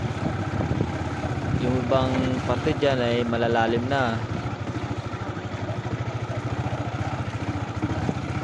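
A motorcycle engine runs steadily with a low pulsing drone while the rider crawls along a muddy, unpaved path with deep sections; someone talks over the engine partway through.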